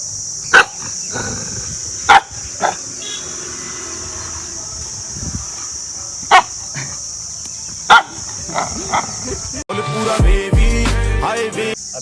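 Dogs resting beside a temple under a young neem tree give a few sharp, scattered barks that ring out near and clear over quiet surroundings, before music starts near the end.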